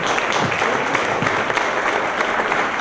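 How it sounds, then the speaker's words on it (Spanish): Audience applauding at a public talk on archives and memory, steady dense clapping that stays even and moderately loud from start to finish. "Por favor, el aplauso."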